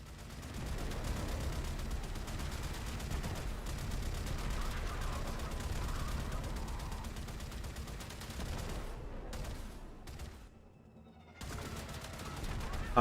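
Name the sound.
spaceship turret gunfire in Railjack, video game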